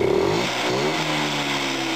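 An engine revs hard as the throttle is opened, its pitch climbing and dipping in quick surges, loud and close with no talking.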